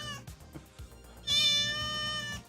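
A cat meows in a drawn-out, loud cry in the second half, preceded by a few softer low sounds, heard alone without talk.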